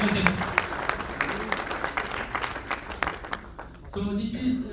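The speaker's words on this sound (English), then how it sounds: "Please applause." An audience applauds at an award ceremony for a distributor's ambassador prize, steady clapping for about four seconds before a voice speaks over a microphone.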